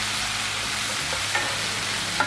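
Onions and garlic frying in a pan for steak tacos, a steady close hiss of sizzling oil with a couple of light spatula knocks, no voices.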